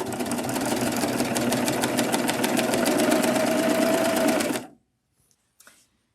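A serger sewing machine stitching and trimming binding on a quilt, a fast, steady mechanical chatter running loud and close for several seconds before it stops abruptly into near silence with a few faint handling sounds.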